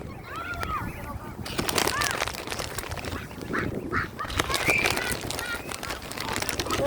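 Ducks quacking while being fed outdoors, scattered near calls and squawks amid rustling and splashing, with people talking over them throughout.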